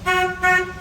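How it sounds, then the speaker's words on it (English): Two short honks from the horn of a 1962 Corvette Fuelie, loud and close, each a bright, steady toot with a brief gap between them. "There's your horn."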